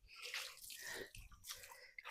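Clean water is splashed and wiped over a Yamaha FZ motorcycle during a final rinse, giving soft irregular drips, squishes and wet rubbing sounds close by.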